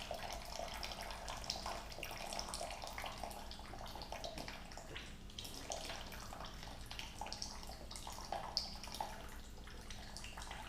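Water rushes steadily out of a car radiator during a flush, a continuous splashing gush like a running tap, heard up close and unbroken, with no talking.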